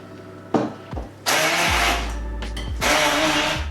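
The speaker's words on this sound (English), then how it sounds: "we're going to grab our electric hand blender and we're going to coarsely blend this into a semi-paste" An electric hand blender coarsely blends roasted butternut squash falafel mixture in two loud whirring bursts, each starting abruptly and running steady for about a second, separated by brief clunks.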